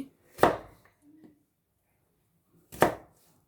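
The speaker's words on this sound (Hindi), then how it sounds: "ऐसे क्यूब्स की शक्ल में इनको काटूँगी, छोटे छोटे बारीक बारीक" Two crisp knife chops on a cutting board as vegetables are cut into small cubes for raita, spaced about two seconds apart with a faint tap between them, close and clear with no talking.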